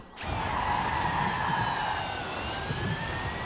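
Lucid Air Sapphire electric car in Forza Horizon 5 accelerating hard, a steady rising electric whine with bright tonal sweeps climbing over a continuous broadband rush, sustained and fairly loud with no talk.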